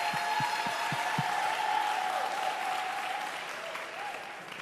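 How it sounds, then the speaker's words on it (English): Audience at a mayor's town hall meeting applauding an educator, steady moderate clapping throughout with a few low thumps near the start and a faint tone beneath, fading slightly toward the end. "Let's give him a round of applause"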